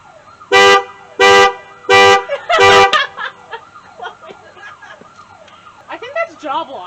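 An alarm on an old truck, a 1997 Ford F-150, blares in four loud, evenly spaced electronic honks inside the parked vehicle, then fades into quieter chatter and rustling from people in the cab.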